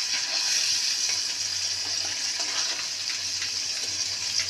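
Fish dropped into spices frying in a pan for a Bengali parse fish jhal, a steady loud hiss and sizzle close by, with no talk.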